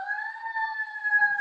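An emergency vehicle siren sounds outside, a steady sustained wail with stacked harmonic tones holding level throughout, moderately loud and heard alone without talk.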